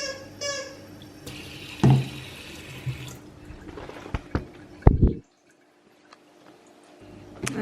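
Tap water running at a kitchen sink while dishes are washed with a drop of dishwashing liquid, splashing and trickling in bursts with clatter, then a sudden stop and brief quiet before the flow returns faintly.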